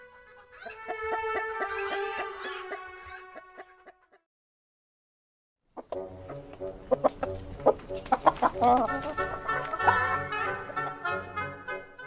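Chickens cluck and squawk in a farmyard, busy overlapping calls that break off into a short silence and then return louder and more agitated, close and alone without talking.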